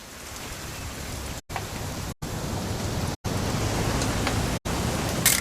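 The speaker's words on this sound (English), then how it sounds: "It's gonna rain the whole weekend," Steady rainfall in the video game What Remains of Edith Finch, a dense, even hiss of falling rain broken by several short silent gaps.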